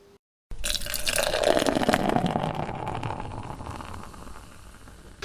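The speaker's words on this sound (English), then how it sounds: "Shall we get pouring? Let's get pouring." Beer being poured into a glass from a bottle or can, a steady, close liquid gush that begins abruptly after a brief silence, then gradually softens as the glass fills.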